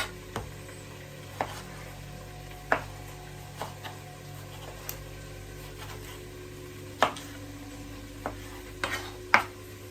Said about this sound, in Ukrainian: Я нарізаю довільно і от саме оцю серединку, цей корінець, стержень ми не додаємо.